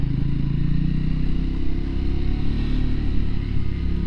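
A Triumph Scrambler 400x motorcycle ridden on Shropshire roads, its engine a steady loud droning rumble mixed with wind, continuous throughout with no talking.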